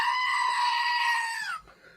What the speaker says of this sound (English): I love the screaming goat.